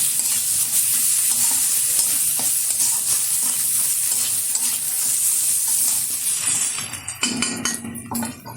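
Ginger and garlic paste fries in a pan for misal pav with a steady close sizzle, while a spoon stirs it with scraping and light clinks. A louder burst of sizzling comes near the end.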